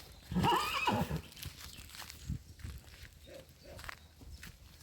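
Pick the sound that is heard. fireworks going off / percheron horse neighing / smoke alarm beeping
percheron horse neighing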